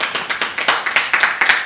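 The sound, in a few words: council audience applauding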